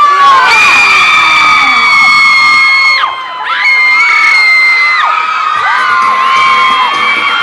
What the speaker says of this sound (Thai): เสียงปรบมือต้อนรับก้าวมรกตค่ะ